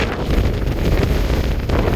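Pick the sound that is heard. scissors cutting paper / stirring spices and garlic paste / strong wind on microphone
strong wind on microphone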